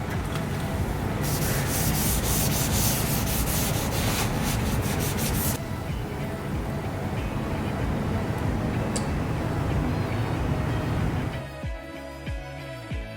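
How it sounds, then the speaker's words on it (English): Coarse sandpaper scrubs a rusty car body down toward bare metal, a loud, close, continuous rasping that shifts texture midway and stops near the end. "Sand the affected area down to the metal layer. Use coarse sandpaper for this."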